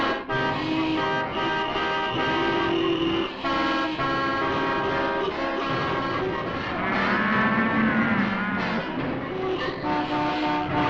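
Dense 1950s traffic jam with many car horns honking continuously and overlapping over a steady roar of engines, loud and unbroken throughout.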